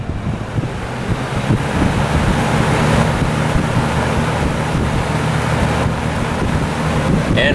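A Lakewood box fan runs on its high speed setting, giving a steady, loud, broadband whooshing hum of moving air throughout, with no talking.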